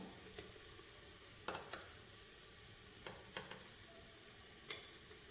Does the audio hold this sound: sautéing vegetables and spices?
yes